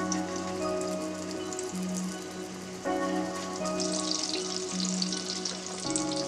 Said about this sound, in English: I'm going to do a good shallow fry on these.